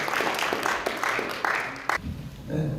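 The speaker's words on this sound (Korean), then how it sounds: "힘찬 박수와 함께 연단으로 모시겠습니다" Clapping at the Chungbuk ESG Forum as a Democratic Party adviser is welcomed to the podium, a few seconds of moderate applause with distinct claps that stops abruptly, followed by a voice beginning to speak.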